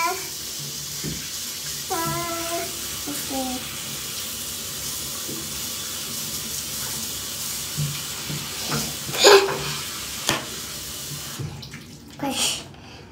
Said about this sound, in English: you can wash your hands.